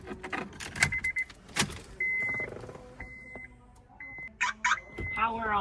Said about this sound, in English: To test it, let's turn on the car.